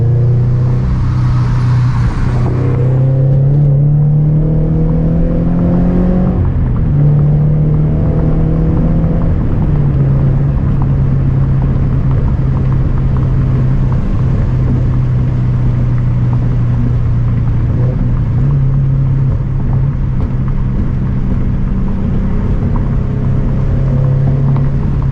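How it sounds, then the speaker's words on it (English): Toyota 86 with an aftermarket eBay exhaust and pops-and-bangs tune, a steady loud exhaust drone holding near-constant revs for most of the run, with an early rise in pitch and no distinct crackles standing out. "Hear the pops and bangs tune."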